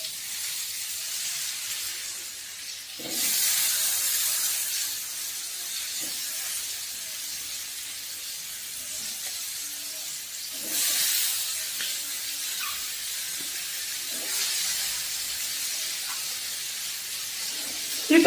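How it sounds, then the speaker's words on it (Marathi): Chopped tomato pieces sizzle in a hot pan while being sautéed for tomato chutney, a steady frying hiss that swells into louder sizzling bursts when the tomatoes go in and again when they are stirred. "आता आपलं हे व्यवस्थित परतलेलं आहे। आता आपण टोमॅटो टाकूया।"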